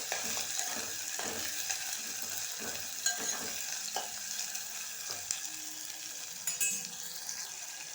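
Onions and green chillies frying in oil in a pan as a spoon stirs them, giving a steady sizzle with occasional scraping and clinks, close by and without talk.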